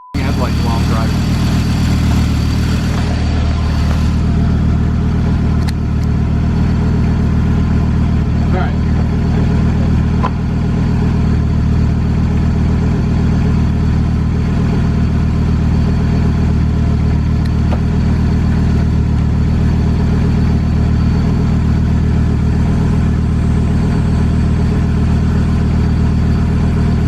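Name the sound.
1991 Audi 90 Quattro S2 turbo engine idling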